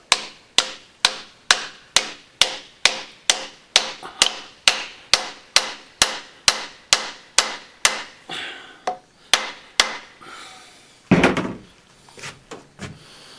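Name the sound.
hammering wooden wedge into axe kerf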